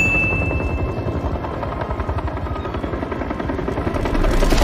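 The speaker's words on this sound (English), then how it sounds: "Why is Luke randomly trying to strike a helicopter out of the sky" A helicopter's rotor thumps in a fast, steady rhythm, loud and close, with no voices.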